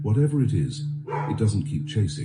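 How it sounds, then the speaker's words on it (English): A dog barks and yips indoors, several quick sharp barks and whimpers running under and between a person's talking. "That's my dog."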